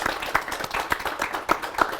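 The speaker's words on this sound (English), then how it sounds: "By a round of applause for Beryl" Sparse applause from a small audience at a talk on drug and alcohol addiction in women, a handful of scattered claps, fairly quiet and uneven.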